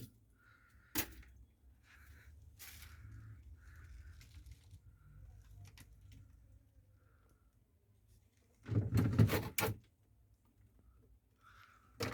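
A drawer slides out of a chest freezer during defrosting and cleaning, with a brief scraping rattle followed by a louder clattering burst near the end, over a quiet background.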